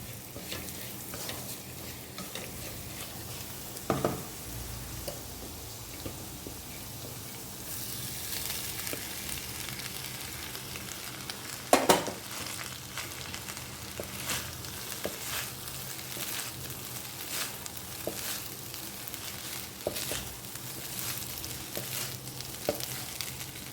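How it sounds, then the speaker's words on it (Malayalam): Drained basmati rice, boiled with only salt, is stirred into paneer chicken in a pan with a steady low sizzle and soft scraping strokes. Sharper knocks of the spoon ring out near the start and middle; no one talks. "കുറേശ്ശെയായിട്ട് ചേർത്ത് നല്ല പോലെ നമുക്ക് ഇളക്കി ഒന്ന് യോജിപ്പിച്ചെടുക്കാം"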